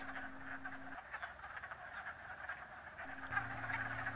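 Wood frogs in a vernal pool give a steady chorus of rapid, clucking croaks, many calls overlapping at close range with no voices present.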